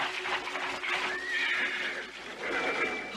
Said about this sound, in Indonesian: itu suara kereta kuda datang sih.